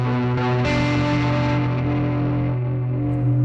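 An electric guitar played through a Quad Cortex modeler with lush plate reverb cranked high rings out as a loud, sustained, distorted chord that shimmers and slowly decays, alone without talk.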